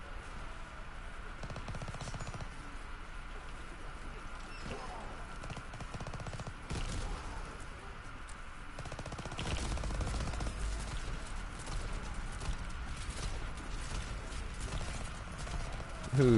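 Rapid gunfire from the WW2 Zombies video game rattles in repeated bursts beneath steady game noise, growing louder and denser toward the end.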